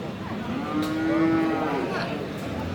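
A cross Friesian bull at the Aftabganj cattle market in Dinajpur gives one long, loud, close moo that swells in the middle. Steady market background noise runs underneath.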